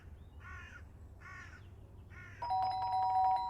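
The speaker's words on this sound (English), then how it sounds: "The doorbell went again, but it hurt too much to move." Doorbell in the video game Fragments of Him: three short buzzing rings in a row, followed by a sustained electronic chime tone that holds to the end, clear over a quiet low hum.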